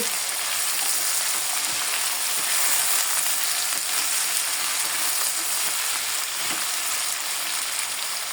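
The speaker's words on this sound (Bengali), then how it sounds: "নেড়ে চেড়ে মিশিয়ে নিচ্ছি" Sweet pumpkin fries in a pan with turmeric, salt and slit green chillies while being stirred, giving a constant close sizzle with faint scraping ticks and no voices.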